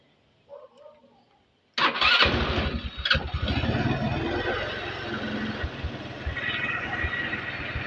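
A Motorstar motorcycle with a temporary air suction valve hose is kicked into life after a brief faint rustle, catching abruptly and settling into a loud, close, steady idle with a rapid sputtering pulse.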